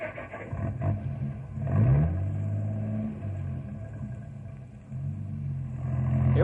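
A truck engine pulls away while towing a bobsled that sticks off the back, rumbling low and steady with a rising surge midway and another toward the end, close and fairly loud with no talk.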